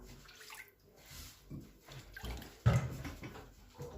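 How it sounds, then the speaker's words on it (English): Water is poured into a pot of cocoyam in short splashing bursts, with a louder gush near the end, close by and fairly quiet overall. "So pouring water into the cocoyam"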